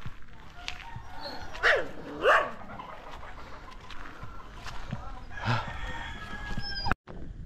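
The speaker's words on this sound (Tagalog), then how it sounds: "Naglaban ng manok." Roosters fight and crow near a building site, with loud crowing bursts and clucks, a dog barking, and people talking in the background.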